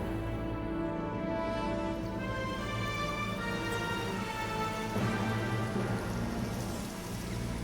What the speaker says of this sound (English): What's with this rain?